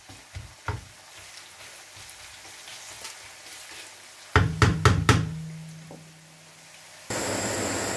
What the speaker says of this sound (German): Also Zwiebel so lange, also die braten, bis so ein bisschen bräunlich werden.